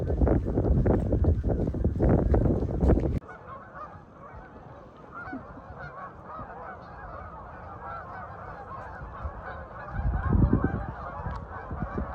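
Swans calling outdoors on open water, loud honking calls up close in the first few seconds, then a steady chorus of quieter, more distant honks, with wind noise on the microphone and another close burst near the end.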